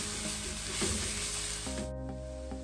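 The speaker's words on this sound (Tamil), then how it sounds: "சேர்த்துட்டு இது எல்லாத்தையும் நல்லா வதக்கி விடுங்க." Masala sizzles softly as it is sautéed in a pan with mutton or chicken masala for masala sevai; a steady, faint frying hiss with light stirring, and a few tonal notes join in toward the end.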